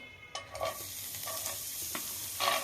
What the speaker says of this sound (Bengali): কড়াইতে দিয়ে দিলাম তেল, এখন দিয়ে দিব গাজর